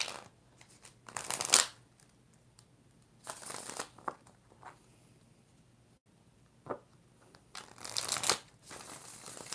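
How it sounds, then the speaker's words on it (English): Tarot cards shuffled by hand in several quick riffling bursts separated by quiet pauses, crisp and close, with no talking. "4 more shuffles."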